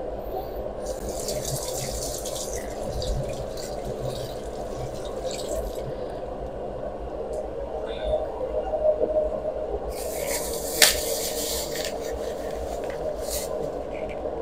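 Water drips and trickles steadily and close by in a household setting, a continuous wet patter with a few sharper splashes, while voices murmur in the background.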